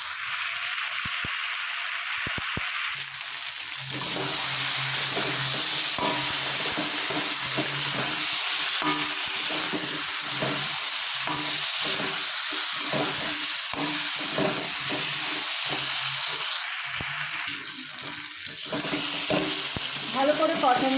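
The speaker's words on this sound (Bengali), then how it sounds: "আর একটু ভালো করে কষিয়ে নেবো যখন মশলার কাঁচা গন্ধটা না থাকে।" Spices sautéing in a pan for rohu fish curry with potatoes, a steady loud sizzle and hiss with repeated stirring scrapes throughout and a brief dip in the frying near the end.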